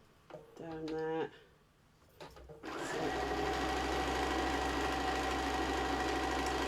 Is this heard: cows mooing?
no